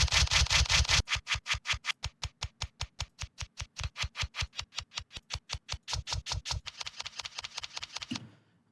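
A business card rubbed in a dense, rapid series of scraping rubs, loud and close, settling into a steady rhythm of quick strokes before ending abruptly.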